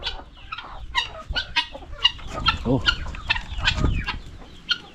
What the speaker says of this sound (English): So we are feeding our chicken.